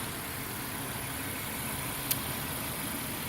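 A Nissan Gloria Y32 with a naturally aspirated VG30E 3.0-litre V6 runs at a steady idle, giving an even, continuous hum with a broad hiss, heard close and alone, with one brief faint tick partway through.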